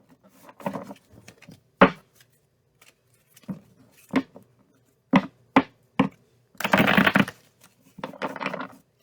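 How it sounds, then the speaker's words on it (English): A tarot card deck shuffled by hand close up: scattered soft card slaps and snaps, then a longer dense riffling burst near the end, with no talking. "One more shuffle."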